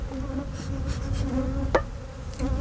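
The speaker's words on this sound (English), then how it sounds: "we pour the excess bees back" Excess honeybees being poured back into a hive after shaking, their dense buzzing hum steady and close, with a brief soft thump partway through.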